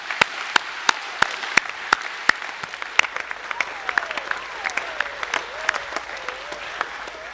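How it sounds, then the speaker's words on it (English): Audience applause at a school academic assembly for Years 7–9, honouring boys who received awards: dense, steady clapping from a large crowd, with a few sharp individual claps standing out near the front, and a faint voice underneath. "Can we give them one last round of applause, please?"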